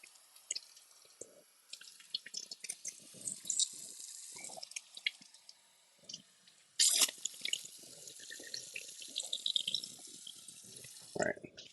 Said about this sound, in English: Gonna rinse the inside of my pepper.